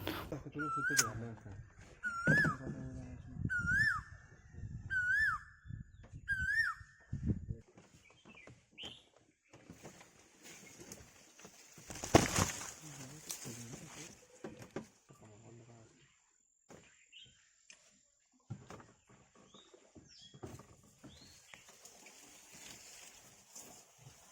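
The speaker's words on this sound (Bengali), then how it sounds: "জঙ্গলে শুধু ঝিঝি পোকা আর কোকিলের ডাক ছাড়া কোনো পাখির ডাকও শুনতে পেলাম না।" In a forest in the Dooars region, crickets trill and birds call, likely cuckoos: a run of repeated rising calls up front, then scattered chirps and insect buzz fading to a quiet, distant background.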